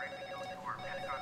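A wall-mounted telephone ringing with a steady electronic trill, faint and in the background, repeating evenly with no talk.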